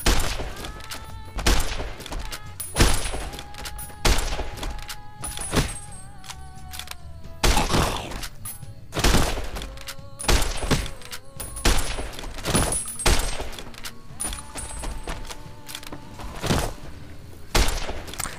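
Varmint rifle shots from Fallout: New Vegas crack out one after another, loud and sharp, at an uneven pace of roughly one per second or two, with faint tonal game sounds underneath.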